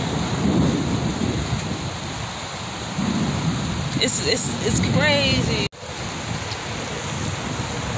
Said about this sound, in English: But right now it's a storm.